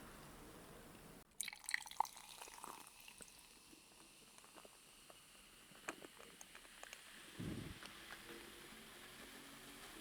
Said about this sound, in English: now we're gonna pour it in a lovely little glass filled with ice